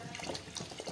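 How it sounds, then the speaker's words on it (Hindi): Water is poured into a cooking pot of dal gosht, a dal and meat curry, giving a steady close splashing, running flow for the whole second with no talk over it. "अब हम लोगों ने इसके अंदर पानी डाल दिया"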